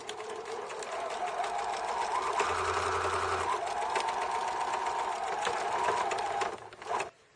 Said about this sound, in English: I'm stitching as close to the folded edge as I can possibly get.